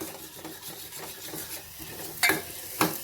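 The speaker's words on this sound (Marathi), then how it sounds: "एक दोन मिनिट फक्त आपण हे परतून घेऊया" Sambar masala, a spice blend containing lentils, sizzles as it is sautéed in a pan, with a soft continuous fry, light stirring, and two sharper scrapes of the spoon near the end, no voices.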